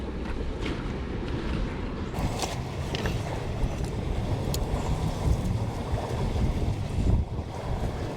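Steady wind buffeting a microphone on a coastal beach while foraging for lobster, a constant low rumbling roar with faint surf underneath, continuous and fairly loud throughout with no talking.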